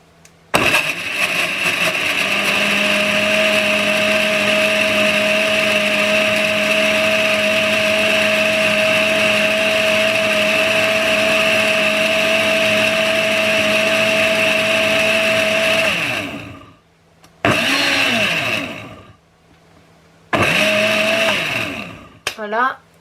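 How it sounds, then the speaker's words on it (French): A blender chops a food preparation with a loud, steady motor whine for about fifteen seconds, then winds down and gives two shorter pulses near the end. "Je vais déjà hacher une première fois la préparation."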